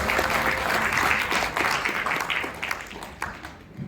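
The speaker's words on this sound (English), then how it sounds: "Let's give them another big round of applause" Audience at a Rotary district conference in Indonesia clapping, a dense, sustained burst of applause filling the room that slowly thins toward the end.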